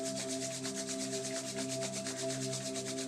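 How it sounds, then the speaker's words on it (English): Palms rubbing together at the close of a yoga session, a steady continuous swishing friction for about three seconds, close and moderately loud, with a faint hum underneath and no talking. "Rub the palms one more time."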